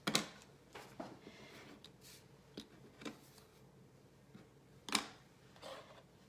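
Quiet scattered snips and clicks of scissors cutting a 1-inch paper strip for card making, a few short isolated cuts across the stretch in a still room.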